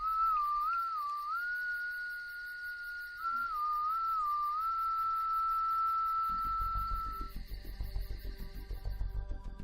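A single person whistles a slow, wavering tune, near and clear, two drawn-out phrases over a faint steady hum, with rumbling background noise taking over near the end.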